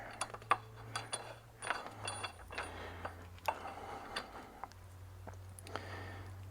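Bolts being fitted into frame mounts on a 1983 Kenworth cabover truck: a run of irregular metallic clicks, clinks and ratcheting taps at close range, with a low steady hum underneath.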